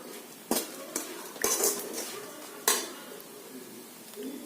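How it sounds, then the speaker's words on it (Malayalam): A few sharp clanks and scrapes of a utensil against a pan of roasting coriander powder, spaced irregularly, over a low steady background hiss. "മല്ലിപ്പൊടിയുടെ പച്ചമണം മാറുന്നതുവരെ വറുക്കണം."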